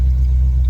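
A locked-cam 1,000-horsepower car engine with 3.55 gearing gives a brief, loud, deep idle rumble.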